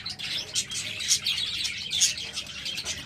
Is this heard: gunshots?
no